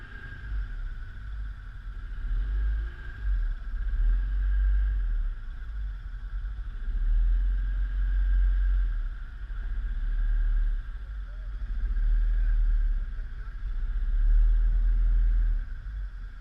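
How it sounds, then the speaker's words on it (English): An ATV driving along an ice-covered winter trail, its engine a low, continuous rumble that swells and fades under steady wind-like noise, moderately close and fairly subdued throughout. "Driving on ice like this with an ATV can be treacherous, especially if you don't have studded tires."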